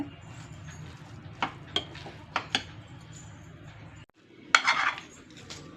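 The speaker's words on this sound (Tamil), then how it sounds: "லேசாக மசிச்சுக்கலாங்க அப்படியே" A spoon mashes cooked millet sweet pongal in a pot, opened after pressure cooking. Sharp metallic clinks and taps of the utensil against the vessel come over a soft background hum.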